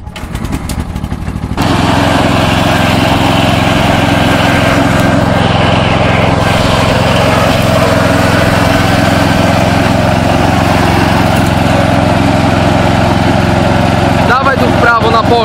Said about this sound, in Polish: Potrafię jeździć traktorem.